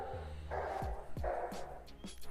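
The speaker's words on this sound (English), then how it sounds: "I don't know if you can hear my dog barking downstairs" A single dog barks downstairs, a few sharp barks heard at a distance through the house over a steady background of broadcast sound.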